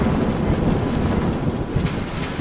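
An autumn coastal storm roars with heavy, continuous wind buffeting close to the microphone and a broad, rushing surf-like wash, with no distinct thunderclap and no talking.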